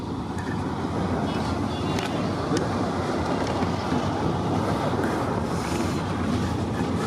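A freight train rumbles past outdoors on a cold morning in Pennsylvania, its CW DPU locomotive at the rear, giving a steady, loud, continuous roar of rolling cars mixed with wind buffeting the microphone.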